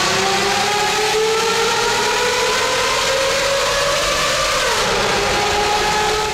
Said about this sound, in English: if you do want your car to make a genuine Formula One noise, for me, there's only one starting point, a V12.